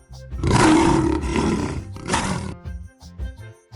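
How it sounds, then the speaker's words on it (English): A lion's loud, rough roar in a children's alphabet song, one long powerful blast followed by a second shorter burst, over a light musical backing. "L for lion."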